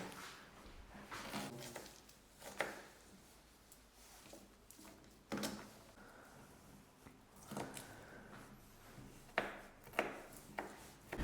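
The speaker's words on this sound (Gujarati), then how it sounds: "તો કારીગરો ચાલુ થઈ ગયા છે સુધારવાનું" Cooks in a hotel kitchen chop vegetables for Gujarati spiced rice, making irregular knife taps and sharp chopping bursts over a quiet room background.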